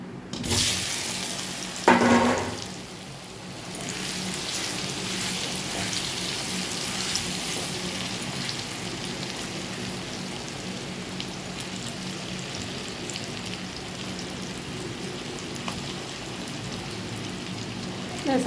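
Boiled potatoes dropped into a hot pan with oil and red chili powder for a borha curry, a burst of sizzle at the start settling into a steady crackling fry that continues evenly, with no talking.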